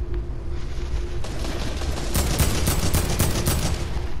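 Rapid gunfire in a battle-royale style shooter game, bursts of shots crackling loudly and intensifying midway, with dense repeated reports and no talk over them.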